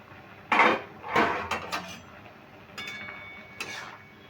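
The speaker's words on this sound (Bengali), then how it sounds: "এবার আমি ঢাকাটা খুলে তোমাদের দেখিয়ে দিচ্ছি কতটা সেদ্ধ হয়েছে" Lid lifted off a cooking pot of banana flower, with a few sharp metallic clanks and scrapes of metal on metal, then softer clinks, close by with no speech.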